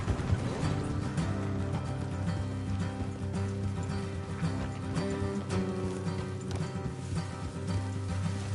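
Horses trot along a road in the Red Dead Redemption 2 video game, their steady hoofbeats set under a continuous layer of game music and ambience.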